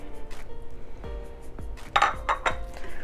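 Vegetable pakora batter with capsicum being mixed in a bowl, a spoon clinking and scraping against the sides in a run of sharp, close knocks and taps.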